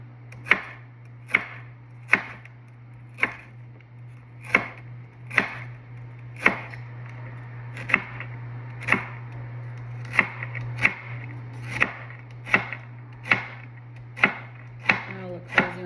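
Onions for a family oyster dressing are chopped with a knife on a board, giving about twenty crisp, evenly spaced knocks close by, steady and unhurried over a low constant hum.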